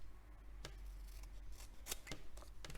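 Scissors snip through a diamond painting sticker sheet in several quick, crisp cuts, close and fairly quiet against a low background hum, with no talking.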